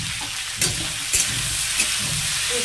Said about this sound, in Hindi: इसको हमें चलाते हुए भूनना पड़ेगा, नहीं तो कढ़ाई में चिपक जाएगा